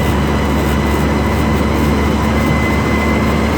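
A NASA tour tram rolls along in a steady, loud, broadband rumble with a low engine drone and road noise, continuous and unchanging, with no talk.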